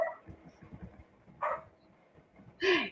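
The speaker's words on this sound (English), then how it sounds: "Molly's barking at Polly." A dog barks a few times, short sharp yips separated by pauses, with faint low sounds in between.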